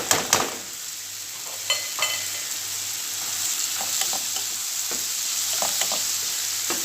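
Bitter gourd (ampalaya), salted and squeezed beforehand, sizzles in a frying pan with steady hiss, broken by several sharp scraping clacks of a utensil stirring it, close and loud with no talking.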